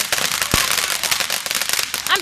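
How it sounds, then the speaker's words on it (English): At a live fireworks show, one sharp close firecracker bang stands out early, followed by scattered crackling pops. Voices talk and react throughout. "This is a cool firework."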